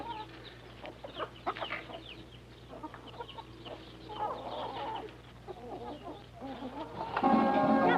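Family-kept chickens clucking in scattered short bursts and overlapping calls, moderately close, growing busier and louder toward the end with no one speaking.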